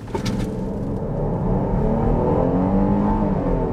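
A 2021 Jeep Grand Cherokee L Overland with the 3.6 liter Pentastar V6 accelerates hard from a standstill, its engine note rising in a loud, close, continuous roar heard from inside the cabin.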